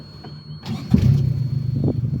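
A Mazda B2200 pickup, sitting unused for 20 years and now fitted with a new fuel system and a primed carburetor, cranks briefly and then catches into a loud, steady, rumbling idle close by.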